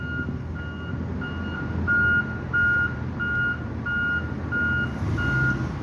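A truck backing up sounds its reversing alarm, a steady train of evenly spaced high beeps over a broad low engine rumble and road noise, with no talk.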